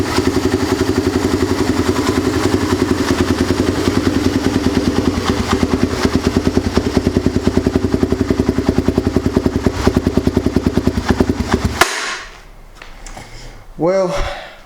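A 2004 Yamaha TT-R 250 dirt bike runs after carburetor repairs, with a loud, close, steady rapid thumping from the single-cylinder engine for about twelve seconds before it abruptly cuts off, leaving a few softer noises.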